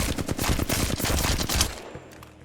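Rapid automatic gunfire in the Apex Legends firing range, a dense burst of shots for about a second and a half that cuts off abruptly, leaving a faint hum of game ambience.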